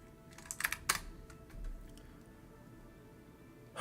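A burst of computer keyboard keystrokes, a quick irregular run of sharp clicks up close, then quieter room tone with faint ticks and a louder knock at the end.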